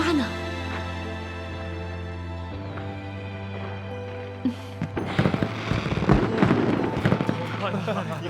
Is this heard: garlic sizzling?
no